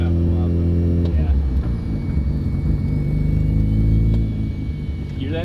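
A Mazda RX-7 FC rotary engine, run after sitting for 15 years, rumbles at idle and revs to about 1500 RPM, loud and close, with a steady droning hum that swells and then eases.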